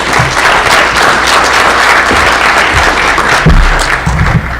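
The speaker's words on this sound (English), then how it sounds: "Let's give a round of applause for John." An audience applauds a speaker named John as he comes on stage for a blockchain talk, loud close-up clapping from a large room with occasional thumps and shuffles underneath.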